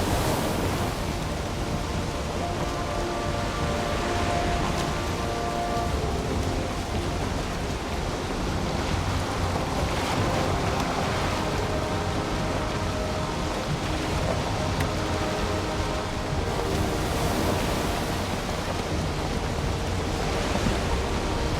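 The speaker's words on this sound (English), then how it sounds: "Waves are smaller." Ocean waves and wind from sailing in the Valheim video game make a continuous, even wash of surf and breezy noise. It stays loud and steady throughout, with no talking.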